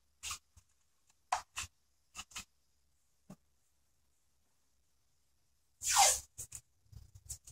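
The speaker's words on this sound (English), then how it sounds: "let me throw some tape on that real quick just to" Tape is pulled off a roll in short ripping bursts and pressed onto a damaged wooden toy, with one longer tearing strip, close and quiet between pauses.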